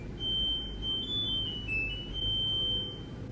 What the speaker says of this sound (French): ça c'est le bruit de la machine quand c'est fini